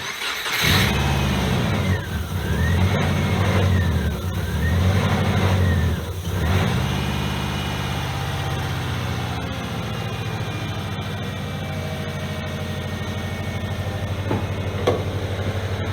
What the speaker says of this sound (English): we're gonna start the motor and see what happens.